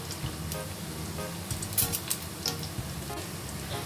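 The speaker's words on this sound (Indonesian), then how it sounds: "Nah ini kita goreng sampai permukaannya sangat crispy." Rice crackers deep-frying in hot oil produce a soft, steady sizzle with scattered crackles and small bubbling pops, fairly quiet and close, with no talking.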